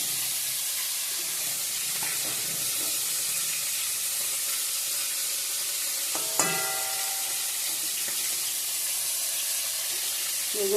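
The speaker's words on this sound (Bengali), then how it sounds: "বেগুনটা অল্প হালকা ভেজে নামাবো" Fresh eggplant frying lightly in oil in a home kitchen, a continuous even sizzle and hiss, close and steady, with a brief metallic clank of a utensil midway.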